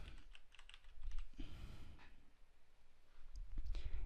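Quiet typing on a computer keyboard while a folder name is entered in file-management software, with short runs of key clicks and pauses between them.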